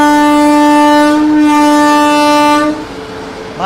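A Goa Rajdhani Express pulling into Surat railway station sounds a loud, sustained multi-tone train horn for nearly three seconds, close by, then cuts off, leaving rumbling station and rail noise.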